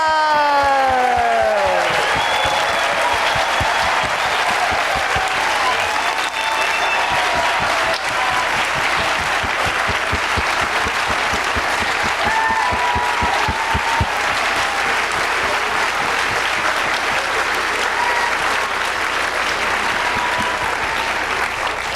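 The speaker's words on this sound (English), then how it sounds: "let's give them all a round of applause." A theatre awards audience gives sustained, loud applause and cheering for swings and understudies, with an excited voice calling out at the start before the clapping settles into a long, steady roar.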